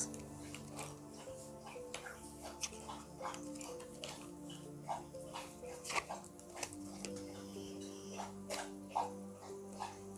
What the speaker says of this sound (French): Il y a mon chien qui boit.